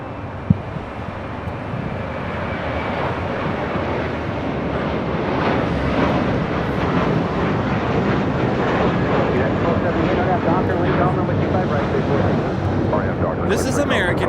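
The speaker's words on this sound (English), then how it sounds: "1658 taking off to Dallas Fort Worth on an A321." American Airlines A321 airliner taking off at Los Angeles International Airport, a steady broad jet roar building and holding throughout, heard from a distance with wind noise buffeting the microphone.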